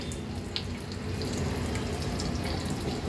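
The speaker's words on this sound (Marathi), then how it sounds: "आता ही दुसरी सोडते अशाच पद्धतीने एक एक करून मी सर्व कोलंब्या सोडून घेते तेलामध्ये" Semolina-coated prawns frying in hot oil over a medium flame, a steady dense sizzle and hiss throughout with a few small pops.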